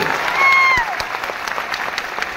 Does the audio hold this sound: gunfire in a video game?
no